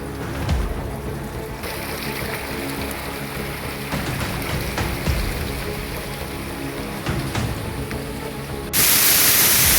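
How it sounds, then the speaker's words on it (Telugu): The Arpana village waterfall near Rayagada roars as a continuous broadband rush of flowing water, steady and fairly close, swelling into a louder hiss near the end. "సో గైస్ చూసారా, ఇదే మా ఊరు వాటర్ ఫాల్."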